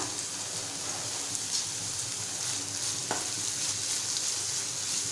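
A spicy Malvani cucumber and potato bhaji is stirred in a hot pan, a continuous close sizzling hiss with scraping spoon strokes and a sharp clack partway through, no talking.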